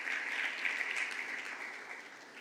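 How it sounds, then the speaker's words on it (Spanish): Church congregation applauding the Lord during a Sunday service, a steady dense wash of many hands clapping at close range, holding even throughout with no voices over it. "Dale un aplauso al Señor por eso"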